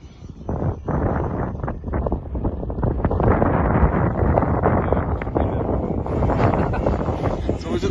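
Heavy wind buffets the microphone at a model aircraft flying field, loud rumbling gusts that roar almost without a break.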